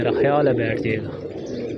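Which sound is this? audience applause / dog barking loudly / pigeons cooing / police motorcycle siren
pigeons cooing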